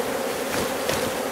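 A dense, steady hum of many honey bees fills the air as they are shaken off frames into a brood box during a shook swarm, close and continuous.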